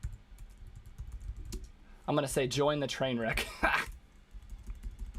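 Keyboard clicks from typing up a Facebook post during a podcast, light irregular tapping in the background, briefly covered by someone speaking in the middle of the clip.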